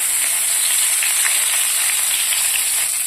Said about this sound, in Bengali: এখন বাকি 3টে মাছ ভেজে নেব